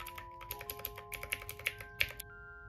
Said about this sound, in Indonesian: Ini speakernya ada keyboard gitu dan suaranya clicky gitu ya